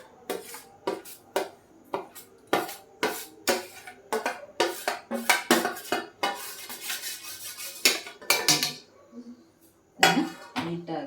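Roasted semolina and cardamom powder being mixed in a pan, with a steady run of loud metallic scrapes and clinks from a spoon against the pan, repeated in a quick rhythm.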